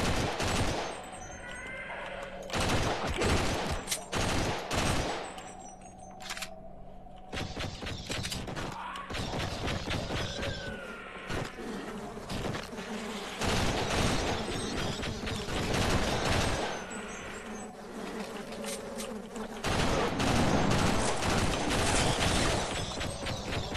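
M16 rifle fire in the game Sven Co-op, repeated sharp bursts and single cracks scattered over about twenty-four seconds, loud and close, with brief quieter gaps and some bleating-like game noises between shots.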